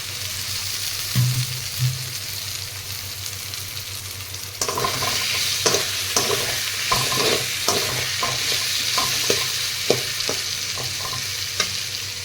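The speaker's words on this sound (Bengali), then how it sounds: "এবার আমি ভাজা পটল ও ভাজা আলুটা দিয়ে সুন্দর করে কষিয়ে নেব" Fried pointed gourd and potato pieces are stirred into a sizzling pan of cooked spices. After a quieter start, the frying grows louder and is broken by repeated scraping stirs, close up and with no talk.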